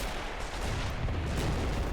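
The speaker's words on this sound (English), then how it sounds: "part of the second line, firing for full effect right now at the Soviet attackers" German artillery in a WWII game fires for effect at attacking Soviet troops, a steady rumbling barrage of deep booms and rolling blasts with no clear pauses.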